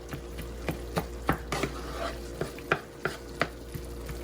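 Ground meat with onions and green peppers being chopped and broken up in a frying pan for spaghetti sauce, a spatula scraping and knocking the pan in irregular strokes over a steady sizzle.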